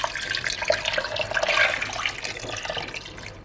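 Cold water pours into a soup pan for beetroot borscht, a steady splashing and gushing stream that is loud and close, with no talking.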